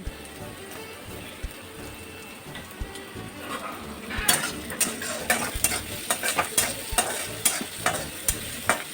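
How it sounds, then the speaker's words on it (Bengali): Chopped onion with a pinch of salt frying in a pan with ginger for UP-style stuffed capsicum, a steady sizzle broken by stirring scrapes that grow louder and more frequent in the second half, with no talking. "লবণ দিলে পেঁয়াজটা তাড়াতাড়ি ভাজা হয়ে যায়।"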